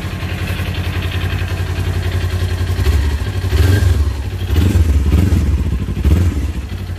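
Kawasaki Ninja 400 with a Akrapovic exhaust idling while warming up, a loud close, steady rumbling engine with slight uneven surges and clattery pulses throughout.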